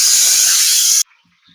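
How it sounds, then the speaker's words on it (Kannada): Onions dropped into hot oil in a pan for chicken biryani give a loud, steady broadband hiss and sizzle for about a second, then it cuts off abruptly to near silence. "ಇದೊಂಚೂರು ಗೋಲ್ಡನ್ ಕಲರ್ ಬರೋವರೆಗೂ ಫ್ರೈ ಆಗಬೇಕು."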